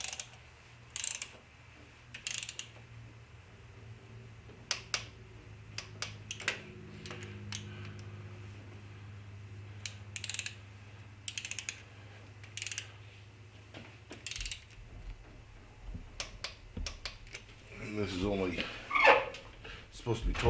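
Torque wrench ratcheting and clicking as bolts are tightened to a set torque on a C10 truck project, a run of sharp mechanical clicks and bursts spread across the clip, close and fairly loud.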